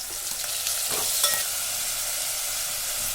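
Chillies, ginger, garlic and onion sautéing in a hot pan: a bright, steady sizzle with hissing crackle throughout, plus a few stirring scrapes early on, close and fairly loud with no voices.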